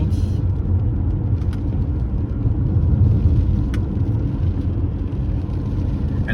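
A 2015 BMW 520D diesel rolls along small village roads, a steady low rumble of engine and tyres heard from inside the cabin with a few faint clicks.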